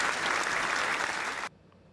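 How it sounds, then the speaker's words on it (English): An audience claps for Will in a dense, even burst of applause that stops abruptly partway through, leaving near silence. "Clap for Will."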